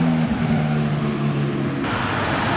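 A McLaren 675LT sports car drives through Monaco during the Grand Prix, its engine a steady, fairly loud low drone with a faint tonal hum as it goes by on the street.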